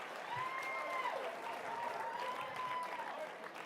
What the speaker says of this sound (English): Give all those people a huge round of applause